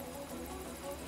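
A helicopter in the video game Dead Rising drones as a low, steady rotor and engine hum, faint and continuous, with no speech.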